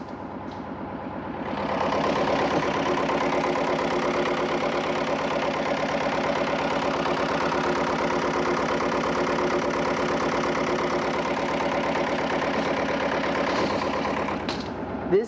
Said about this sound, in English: you can hear the difference between now the silence and before the noise in the engine room